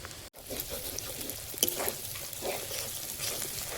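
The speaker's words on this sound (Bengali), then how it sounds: "পেঁয়াজটা ভাজা ভাজা হয়েছে, পেঁয়াজ থেকে ভাজা গন্ধ ছেড়েছে। এবার দিচ্ছি আদা রসুন বাটা" Ginger-garlic paste hits hot oil with browned fried onions in a home chicken curry, giving a steady close sizzle and frying hiss with a brief stir clatter.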